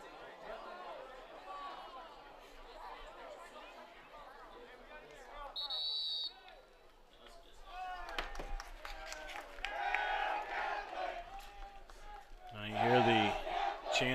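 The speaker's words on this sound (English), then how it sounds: "Knights fans, you can hear them out there getting into the game now." Crowd noise from fans at a high school regional semi-final basketball game in a gym, a broad roar of shouting and cheering that swells in waves, with a buzzer-like tone and a commentator talking over it.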